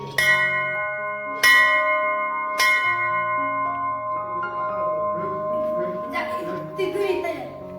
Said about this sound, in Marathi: ते बघा इथे पण आहे घंटा